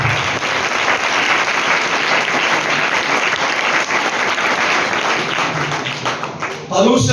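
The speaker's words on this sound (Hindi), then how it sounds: "यीशु के लिए तालियां बजाइए।" A church congregation at a Sunday sermon applauds loudly and steadily for several seconds, with dense clapping filling the room until a voice cuts in at the end.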